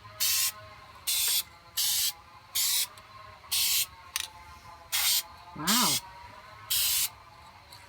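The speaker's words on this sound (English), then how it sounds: "Ooh, I like the way it sprays so far." Bursts of hiss from a Duplicolor Perfect Match spray paint can, nine regular spurts of about half a second each with short pauses between, close and loud, with a brief spoken exclamation in between.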